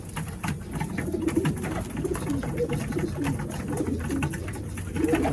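Domestic racing pigeons coo in a loft, low rounded calls repeating steadily in the foreground over a constant background hum, with no speech.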